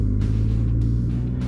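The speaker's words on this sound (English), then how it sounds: "And the engine doesn't sound half bad either." Ford Freestyle petrol engine revving hard toward its 6800 rpm limiter, a steady thrummy low drone heard from inside the car, continuous and fairly loud with no talk.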